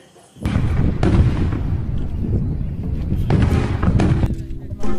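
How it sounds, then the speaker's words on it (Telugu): A dense barrage of firecrackers set off in election celebrations bursts continuously, loud and rough like distant artillery, with voices faintly mixed in. "బాంబులు పేలుతున్నట్లు ఉన్నాయిరా"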